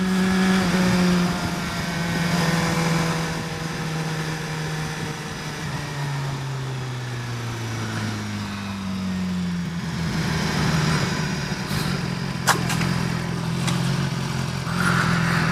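A 2016 BMW S1000XR motorcycle engine runs loud and continuous on a test ride, its pitch sliding down and rising again as the rider revs and eases off, with no talking.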